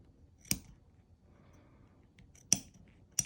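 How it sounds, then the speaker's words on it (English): Scissors snip through embroidery fabric in a quiet room: three sharp, crisp cuts spaced a couple of seconds apart, close to the listener, with faint rustling between them. "I cannot talk and cut at the same time."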